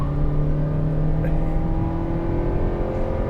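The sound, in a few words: 2024 Toyota Prius Prime accelerating to highway speed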